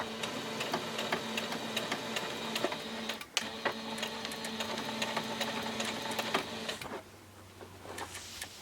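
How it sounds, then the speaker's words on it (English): A sewing machine runs continuously as it stitches forward and then back through fabric for a bowl cozy, its steady mechanical whir pausing briefly near the end. "I'm going to sew a few forward and then sew a few back just to make sure you lock in the stitch."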